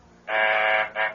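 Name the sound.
apartment phone buzzer from downstairs in a radio drama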